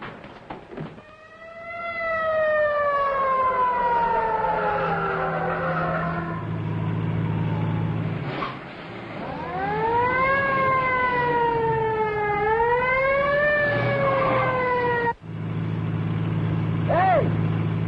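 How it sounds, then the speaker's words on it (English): A wailing ambulance siren from a 1938 radio action drama rises and falls in long, loud sweeps, mixed with a low engine rumble and briefly broken by a short gap near the end. "Follow that ambulance."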